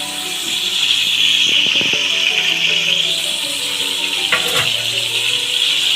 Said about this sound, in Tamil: கொஞ்சம் ஆயில் ஊற்றியாச்சு கொஞ்சம் ஆயில் கூட வரட்டு லைட்டாக கொஞ்சம் ஒரு வெங்காயத்தை வதக்கிக்கணும்